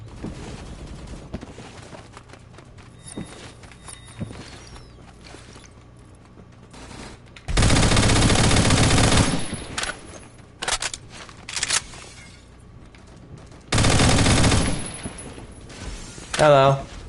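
FAMAS rifle fire in Phantom Forces comes in two loud sustained automatic bursts of about two seconds each, plus a few shorter shots and clicks, amid quieter game sounds.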